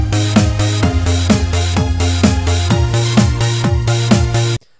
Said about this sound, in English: Sometimes known as the Boots and Cats drum beat.